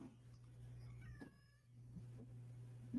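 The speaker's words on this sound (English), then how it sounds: "listen to the cat being pitiful over here" A cat gives a single drawn-out, plaintive meow midway through, fairly faint over a low steady electrical hum in a quiet room.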